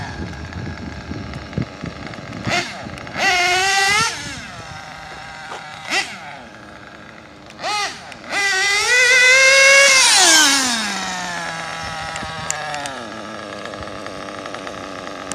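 A modified Reds R5R/Triton nitro engine in an original Mugen MBX5 RC buggy, buzzing at idle and then screaming through several sharp rising revs, one long sustained high-pitched run before settling back to a steady idle, loud and close.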